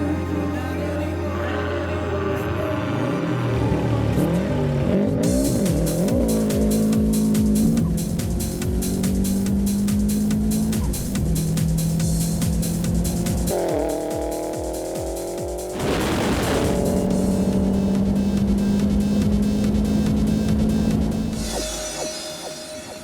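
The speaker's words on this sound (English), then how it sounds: "get them to close down a runway at Sydney's Bankstown Airport, just so Brian could go flat out through all the gears" A car launched flat out along a closed runway at Bankstown Airport in Sydney, its loud engine note climbing and dropping through each gear change, then backing off near the end.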